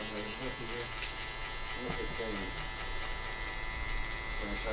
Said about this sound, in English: So then I go in with my Andis cordless outliner.